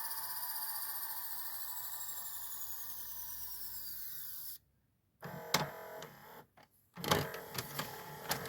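An Akai VS-G745 HiFi VHS recorder showing error 3 strains to eject a tape, with a steady mechanical whir and whine for several seconds. It then falls silent and ends with a few sharp clicks and clunks.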